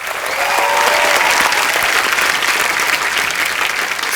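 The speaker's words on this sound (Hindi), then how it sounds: "इनके लिए भी जोरदार तालियां।" A studio audience at a TV comedy talk show gives loud, thick, continuous applause to welcome a musician guest, a steady wash of clapping from start to finish with no talk over it.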